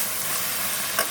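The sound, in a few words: onions frying in hot oil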